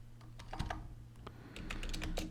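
Close computer keyboard typing in quick irregular bursts of keystrokes at a terminal, with a low steady hum underneath.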